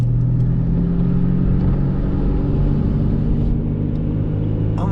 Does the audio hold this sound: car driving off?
yes